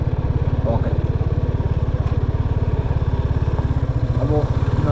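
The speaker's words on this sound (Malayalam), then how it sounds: "അപ്പോൾ നമുക്ക് ബൈക്കിൽ നേരെ പോവാം" A motorcycle engine idles close by with a steady, even low-pitched putter that holds for the whole stretch, and faint voices sit underneath it.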